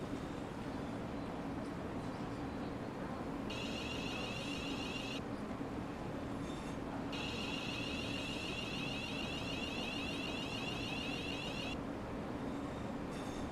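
A Class 700/0 electric multiple unit runs in Train Sim World 3, giving a steady close rumble of wheels and traction hum, with a high whine that switches on and off twice, and no voices.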